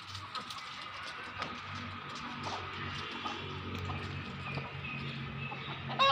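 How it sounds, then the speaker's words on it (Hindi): A black and red desi rooster clucks quietly in a village chicken shop, with soft scattered clucks over faint background clatter and ticking. "ये देख ले मुर्गा"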